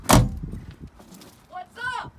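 A Lamborghini door swung shut, one sharp, heavy thud right at the start, followed by a muffled voice calling out from inside the car.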